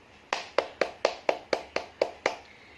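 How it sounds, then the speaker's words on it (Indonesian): Children in a classroom clap their hands together in a steady, evenly spaced rhythm of about nine sharp claps, close and clear with no talking. "Tepuk tangan dulu ya buat kita semuanya."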